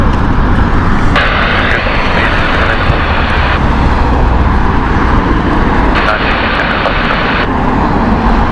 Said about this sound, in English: This is the LAX Airbus A330 Neo there,